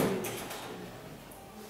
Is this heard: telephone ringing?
no